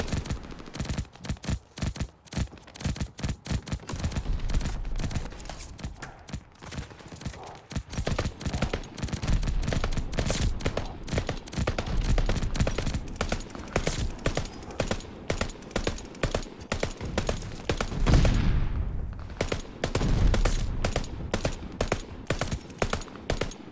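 Rapid bursts of light machine gun fire from Call of Duty: Vanguard, loud and close, fired in quick taps and short volleys that run nearly unbroken, with faint talk underneath at times.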